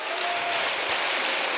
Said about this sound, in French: Je pense que vous pouvez applaudir et accueillir Jean-Paul Rouve